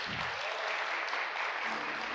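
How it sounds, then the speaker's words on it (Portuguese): A church congregation applauds together, a dense, steady patter of many hands held evenly for a couple of seconds before it thins out, with a low murmur of voices near the end. "Palmas para Jesus."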